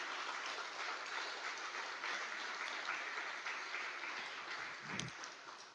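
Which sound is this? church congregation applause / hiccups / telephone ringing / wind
church congregation applause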